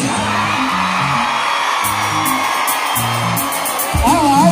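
Festival crowd at an outdoor concert in Leicester, with women whooping and screaming loudly over pulsing bass music, the cheering sustained throughout and swelling near the end.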